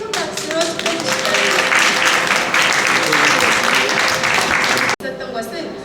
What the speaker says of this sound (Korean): 큰 박수로 축하드립니다.